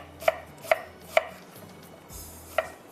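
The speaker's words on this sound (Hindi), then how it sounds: "स्लाइस कर रही हैं, पतले पतले स्लाइस करेंगे पुलाव के लिए।" Onions being thinly sliced with a knife on a board for beef yakhni pulao, four sharp separate chops at an uneven pace, close and clear with no talk.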